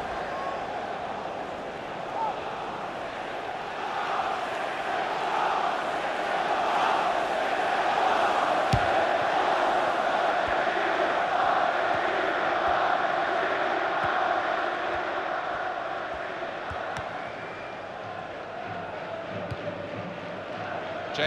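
Football stadium crowd at an Everton versus Manchester City Premier League match, a broad sustained roar that swells to a peak as a chance goes narrowly wide and then eases back to a steady murmur.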